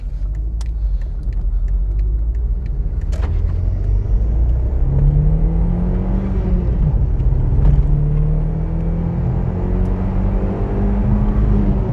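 A Mk1 SEAT Leon Cupra R hot hatch drives over a bumpy, beaten road, heard from inside as a loud, constant engine and road rumble with occasional knocks and shifting drone.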